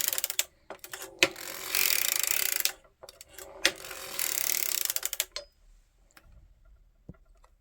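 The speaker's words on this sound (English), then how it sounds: "I'm just going to crank to the back." A circular sock knitting machine being cranked, giving two long runs of dense ratcheting, clicking mechanical chatter separated by a pause, with a few loose taps and clicks afterward and no talk.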